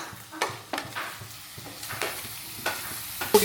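Onion and tomato being sautéed together in a pan: scraping stir strokes over a low, soft sizzle, with several distinct spoon scrapes and clatters spaced a fraction of a second apart, no voices.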